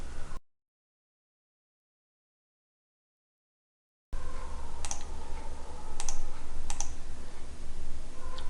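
Keys clatter on a computer keyboard during Revit work, soft and close, with a few sharper clicks after a stretch of silence.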